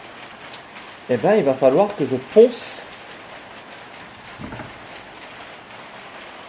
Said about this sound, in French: Désolé pour la pluie, hein.